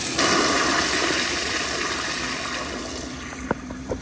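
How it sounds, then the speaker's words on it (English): A 2005 Gerber Ultraflush toilet flushes with a loud, close rushing gush that slowly tapers into trickling refill water, ending with a couple of faint clunks. "here is another flush"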